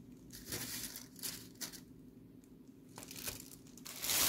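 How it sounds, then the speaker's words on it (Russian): A plastic bag holding salted eggplant pieces and starch crinkles and rustles in uneven bursts as it is handled and twisted closed, close by and fairly quiet, with brief pauses between the crackles. "Теперь закручиваем пакетик так, чтобы внутри остался воздух."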